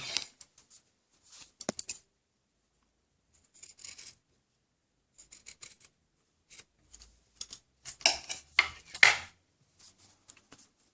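Scissors snipping fabric while sewing a shirt placket, sharp metallic clicks and short cutting bursts scattered irregularly through an otherwise quiet stretch, close and crisp, with a louder cluster near the end.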